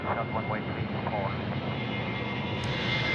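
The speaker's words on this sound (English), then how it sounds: "Our AirAsia friends now rolling 34 left." An AirAsia jet rolls for takeoff on runway 34 left at Sydney Airport, a broad, steady engine roar heard from a distance, with faint voices in the background.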